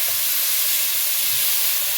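Cauliflower florets frying in hot oil, a loud, steady, close sizzling hiss that fills the whole stretch without a break, no voices.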